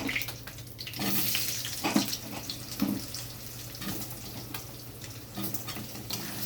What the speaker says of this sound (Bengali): এবার এই তেলেই আমি দিয়ে দেবো আলু।